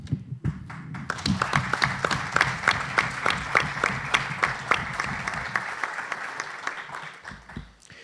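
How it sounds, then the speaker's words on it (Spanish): Applause from a seated audience greets the president of a civil association at the start of a school accessible-books project relaunch, a dense run of rapid claps sustained for several seconds before tapering off near the end. "Qué bueno que te aplaudan al principio"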